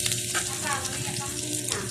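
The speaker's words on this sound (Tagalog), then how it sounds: "ilalagay na natin ang ating bawang" Garlic hits hot oil for a Filipino ginataang talong dish and crackles into a steady, close sizzle with some stirring, while a person talks over the frying.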